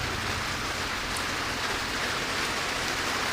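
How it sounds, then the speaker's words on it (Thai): Steady rain falling outdoors near a Kubota combine harvester being fitted with a straw spreader, a dense even hiss of drops on surfaces, loud and continuous with no talk. "โอ้ฝนตกครับ"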